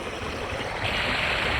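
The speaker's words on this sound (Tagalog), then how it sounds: "Dito medyo malakas yung agos dito." A strong current of the Bulacan River rushes steadily close by, a loud, continuous roar of flowing water that swells slightly partway through.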